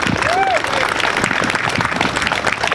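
Applause from an event audience greets the next speaker at a community talk, a thick continuous clatter of clapping mixed with crowd voices and a brief whoop near the start.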